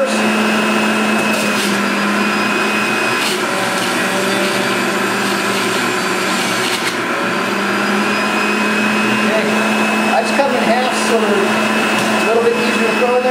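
A Breville Ikon juicer runs with a loud, steady motor drone while apples and carrots are fed through it, its pitch wavering slightly as hard produce is pressed in, close and continuous throughout.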